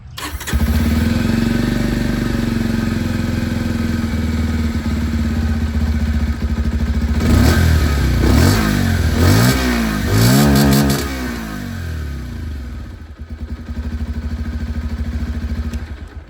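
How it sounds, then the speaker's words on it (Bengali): A 2026 Bajaj Pulsar 125 motorcycle idles loudly at close range, then its exhaust rises and falls through several quick throttle revs before settling back to a steady idle. "এক্সস্ট সাউন্ডটা আপনাদের শুনিয়ে দিই। সবথেকে প্রথমে পালসার দিয়ে স্টার্ট করি।"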